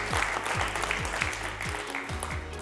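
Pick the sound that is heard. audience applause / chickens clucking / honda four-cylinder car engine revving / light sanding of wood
audience applause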